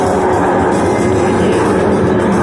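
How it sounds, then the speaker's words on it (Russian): A Sukhoi Su-30SM two-seat heavy fighter drops its nose after a bell maneuver at an air show and accelerates, a loud steady broadband jet roar that holds for a few seconds with crowd noise underneath. "Опускает нос и разгоняет тяжелую машину."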